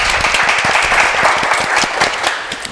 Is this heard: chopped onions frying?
no